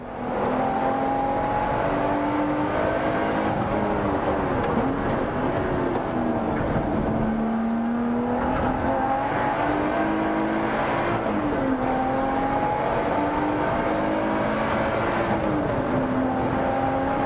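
A Lotus Evora Sport 410 engine revs hard on a race track, pitch climbing and dropping through gear changes in a continuous loud drone heard from inside the car, with no talking.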